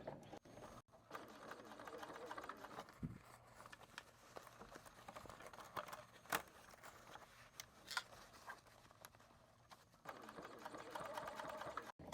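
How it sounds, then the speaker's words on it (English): A sewing machine runs in continuous bursts, top stitching a bag tube with the side of the bag wrapped around the presser foot, a close rapid mechanical chatter with a short pause and a few clicks midway. "we are sewing with the side of the bag kind of wrapped around the"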